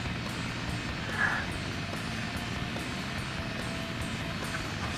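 A steady, droning airplane engine hums in the Sonic Adventure DX video game, a constant mid-loud roar with a faint repeating tick on top, heard alone without talking.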